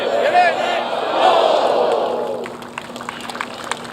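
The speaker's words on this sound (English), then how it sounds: "The noise growing too as the crowds have grown." A large golf gallery at the U.S. Open final round at Brookline gives off a swelling roar of crowd noise with shouts, fading after a few seconds into scattered murmurs.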